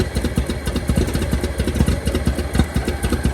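A 1923 Franklin Model 10 engine runs roughly, close and loud, its uneven firing pulses coming in a steady but ragged stream of low thumps and clatter throughout.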